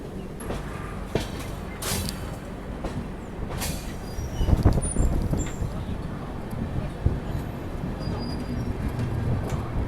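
The Chennai Central–Mangalore West Coast Superfast Express rolls into Katpadi Junction railway station in India, its wagons rumbling steadily with rail clatter and a few brief wheel squeals, close and continuous throughout.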